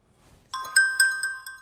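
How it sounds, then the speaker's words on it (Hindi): A phone ringtone plays while a call is being dialed: a bright electronic melody of several quick, close, clear tones that starts after a short near-silence, with no talking over it. "तुम देख नहीं रहे मैं फोन मिला रहा हूं"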